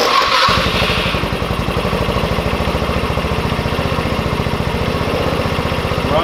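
Kandi 150cc buggy engine with a freshly swapped carburetor cranking briefly, then catching and settling into a fast, steady putter, close and loud with no talking.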